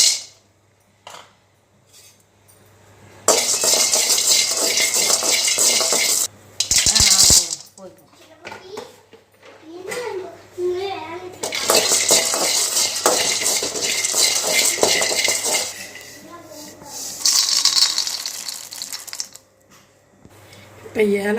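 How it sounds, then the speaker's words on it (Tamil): Peanuts being dry-roasted and stirred in a pan, loud rattling and scraping bursts that come and go, with someone talking in between. "இப்போ நிலக்கடலை பருப்பு போட்டுருவாங்க."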